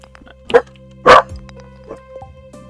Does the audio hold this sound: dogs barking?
yes